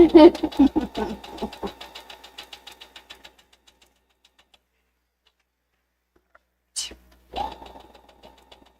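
A sewing machine stitching a quarter-inch seam around an apron, rapid evenly spaced needle clatter that slows and stops, then after a pause a short click and another quick burst of stitching up close.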